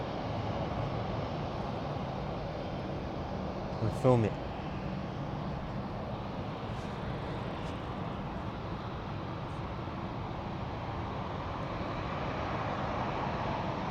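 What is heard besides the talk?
airplane taxiing to park at London City Airport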